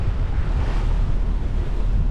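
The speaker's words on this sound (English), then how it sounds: "And the waves are definitely smaller." Waves slap and wash against a boat crossing Lake Oneida, a steady broadband rush with heavy wind buffeting the microphone throughout.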